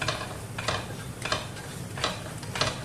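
Onion mixture with flour being stirred in a cooking pan for tomato rice, giving repeated soft scraping strokes at a steady rhythm over a faint sizzle, close and fairly quiet with no talking.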